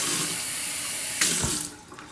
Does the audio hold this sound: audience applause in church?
no